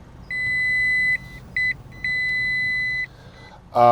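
Touch-control beeps sound inside a quiet MG One car: a long tone, a short blip, then another long tone, each clear and piercing over a faint hum.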